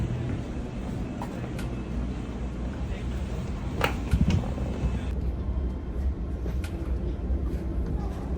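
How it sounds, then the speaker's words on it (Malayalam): Sydney commuter train interior while boarding and riding, a steady low rumble of wheels and motor with a few brief clanks and door or track noises, continuous throughout. "ഞാൻ ട്രെയിനിൽ ഇവിടെ എത്തിയിട്ടുണ്ട് ട്രെയിനിലേക്ക് കയറുകയാണ്"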